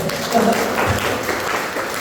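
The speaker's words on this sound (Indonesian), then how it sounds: "Kasih tepuk tangan dulu dong." Office audience applauding at a company headquarters gathering, a brief steady patter of clapping in a reverberant room, moderately loud with a low murmur beneath.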